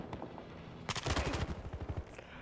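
Burst of automatic gunfire in the shooter game Battlefield Hardline, a rapid string of shots starting suddenly and rattling for about a second before trailing off.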